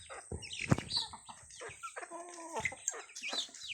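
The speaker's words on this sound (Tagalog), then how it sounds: "Ayan po mga manok." Chickens cluck and squawk in short, uneven bursts close by, with a sharper cry partway through and scattered farmyard noise.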